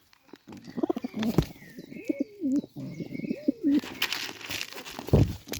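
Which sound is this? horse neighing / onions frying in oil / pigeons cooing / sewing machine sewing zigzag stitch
pigeons cooing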